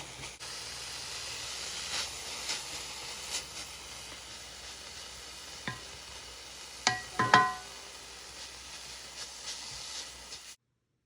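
A steady, soft hiss of steam rises from a covered pan on low heat with no water added, broken by a few small clicks and light crackles near the end.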